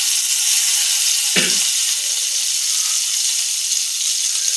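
Butter sizzles in a pan for tempering, a loud, continuous bright hiss with one brief low thump near the start, heard alone without speech.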